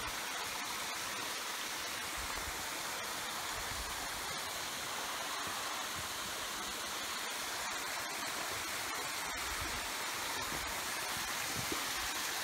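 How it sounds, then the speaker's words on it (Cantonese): A mountain stream on a hiking trail near Bride's Pool flows steadily, a continuous, close rushing of water like a small waterfall, with no talk. "流水聲潺潺啊"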